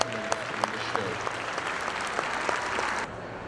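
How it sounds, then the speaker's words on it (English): An audience at the 2015 Royal Winter Fair Jersey cattle show claps steadily for the breeders and exhibitors, a dense sustained round of applause in a large hall that cuts off near the end. "give the breeders and exhibitors of these great cows a big round of applause"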